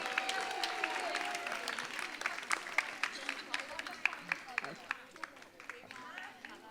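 An audience at a dance night applauds as young girls come onto the stage, a sustained wash of many clapping hands with sharper individual claps near the end and faint talk underneath.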